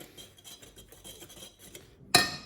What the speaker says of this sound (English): Now all we have to do is mix it together